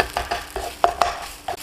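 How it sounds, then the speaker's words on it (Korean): A spatula stirs rice around a frying pan for Korean-style shrimp fried rice, with a sparse series of light scraping clicks over a faint sizzle, close and quiet, no voices. "뭉치지 않게 이렇게 꾹꾹 밥을 누르는 게 아니라 골고루 펼쳐주면서 볶아지게 만들어주시면 되겠습니다."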